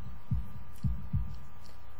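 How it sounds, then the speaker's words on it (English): A heartbeat sound effect from the visual novel game Katawa Shoujo thumps three times in a steady, low, muffled rhythm over a faint hum, with no voices. "Oh, there's that heartbeat again."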